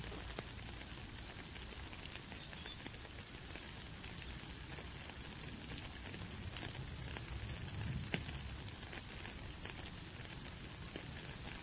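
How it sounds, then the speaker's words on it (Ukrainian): Steady rain patters down continuously, a dense even hiss with occasional louder drops, no voices. "Так, краплинки дощу це вода."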